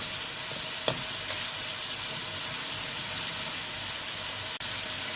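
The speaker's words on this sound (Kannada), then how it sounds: "ಇದಕ್ಕೆ ಈಗ ಟೊಮೆಟೊ ಹಾಕಿ 1 ಕಪ್ಪು, ಒಂದು ಸ್ವಲ್ಪ ಹೀಗೆ ಹುರಿದಾದ್ಮೇಲೆ" Chopped tomatoes frying in oil in a pan for a sweet-sour pumpkin curry, a steady close sizzle with a couple of brief utensil clicks.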